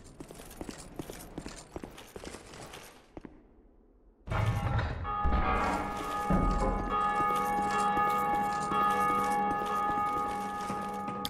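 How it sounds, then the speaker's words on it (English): A bell struck in Dark Souls 2, a sudden loud ringing tone with sustained harmonic overtones that follows a quieter stretch of clopping footsteps and a brief near-silent gap, then hangs and decays slowly. "Next, we hit that bell."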